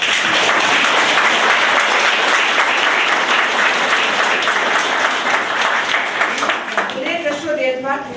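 Loud, sustained applause from a large audience after a choir performance, dense steady clapping filling the whole stretch, thinning slightly toward the end.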